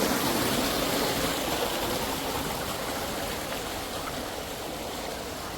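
A river rushes past a farm field in a steady, loud wash of flowing water that holds constant throughout with no pauses.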